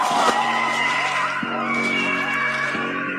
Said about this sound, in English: Those are the shrieking eels.